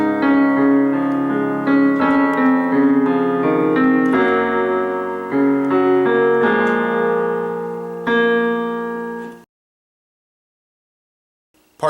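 Solo piano plays a passage of a song from Over The Garden Wall, both hands together with sustained chords and a moving melody for about nine seconds, then stopping abruptly into silence.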